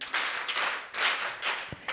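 Audience hand clapping at a communications and digital technology event, a steady patter of many hands in broadband bursts with no voices, moderately loud throughout.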